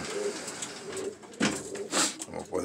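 Pigeons coo in a loft, low throaty coos repeating close by with rustling and small clicks between them.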